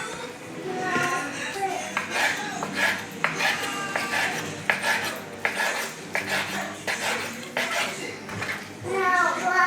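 Mozzarella strips for panzerotti filling being tossed and mixed in a bowl, with repeated clinks and scrapes of utensils against the dish throughout, accompanied by background voices.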